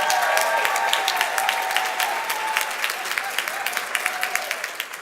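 An audience applauds the honored ladies at the Torch Awards ceremony, dense sustained clapping filling the room and tapering slightly toward the end, with a faint tone running underneath.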